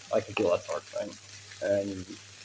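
A chicken dish cooking in a hot pan gives a gentle sizzle and frying crackle, heard beneath a person talking throughout.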